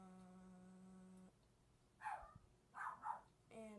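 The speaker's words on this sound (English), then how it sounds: "And my dog are being loud." A pet dog barks a few times in quick bursts indoors, moderately near, after a steady electronic tone cuts out; a short beep sequence follows.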